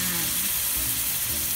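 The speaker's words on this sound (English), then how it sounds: "our pan and butter is hot already. So, I'm going to put the steak now." Steak frying in hot butter in a pan makes a loud, continuous close-up sizzle with faint low rumbles beneath, steady from start to end.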